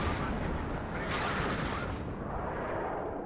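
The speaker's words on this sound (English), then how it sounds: "But look at these explosions. They are very similar to usual tube arty as opposed to something like mortars." Continuous dense rumble of artillery explosions in the WARNO real-time strategy game, a loud sustained barrage of overlapping booms with no distinct gaps, heavy low end throughout.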